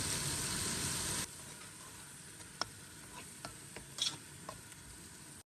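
Biryani spice paste with ginger sautéing in a pan: a steady, close sizzle that is louder for the first second and then settles lower, with a few sharp clicks of stirring. No one speaks.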